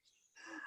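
A single sneeze bursts out near and fairly loud after a brief sharp intake of breath, set in a quiet indoor interview.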